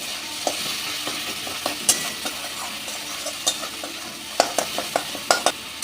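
A coarse paste of onion, ginger and garlic fries in a pan with a constant close sizzle, while a spatula scrapes and clinks against the pan in irregular strokes that grow more frequent toward the end.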